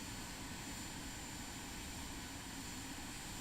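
A Vision Jet in Microsoft Flight Simulator 2024 runs with a steady, even jet engine roar, unbroken for the whole stretch, with no voices over it.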